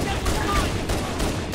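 Gunfire in the Halo Anniversary video game, a dense rapid burst of shots and combat noise throughout, with voices mixed in.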